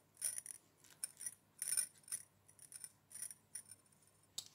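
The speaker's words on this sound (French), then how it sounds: "On va pouvoir couper ce qui dépasse." Scissors snipping off excess string in a paper craft, a series of sharp, close metallic snips and clicks in irregular bursts, with a louder cluster near the middle and quiet gaps between.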